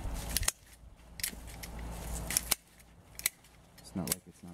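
Garden shears trim plant stems in a backyard after a monsoon, giving a few crisp snipping clicks spaced out over several seconds, close and fairly quiet, with soft rustling of foliage and a voice briefly in the background.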